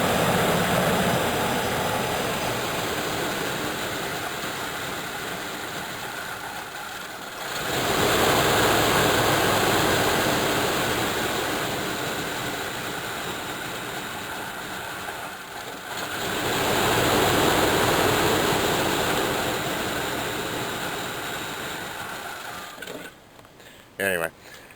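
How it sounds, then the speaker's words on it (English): A 1985 Chevrolet Caprice engine idles roughly after a cold start, a loud continuous rumble that swells and fades in slow surges, with someone talking over it. "It's idling so rough that the engine's just shaking all over the place"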